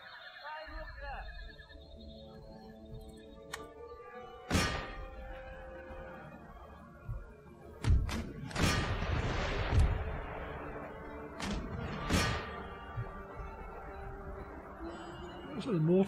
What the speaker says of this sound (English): So the mortars are going to come out to play as well.